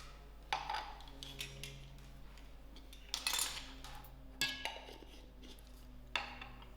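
Baking powder being mixed into flour in a bowl with a utensil, giving a few sharp metallic clinks and scrapes against the bowl at irregular moments over a quiet steady hum.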